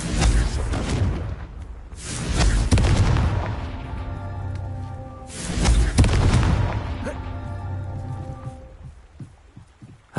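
Repeated Confringo blasting-spell explosions in Hogwarts Legacy: two big booming bursts with rumbling decay and crackling debris, each followed by a lingering tonal shimmer, plus small sharp pops near the end.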